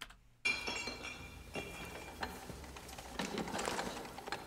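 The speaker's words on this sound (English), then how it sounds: "And you can hear the bottle drop," A glass bottle drops in a music video, giving a sudden bright clink and rattle of glass followed by scattered clattering impacts over a musical backdrop, moderately loud and close.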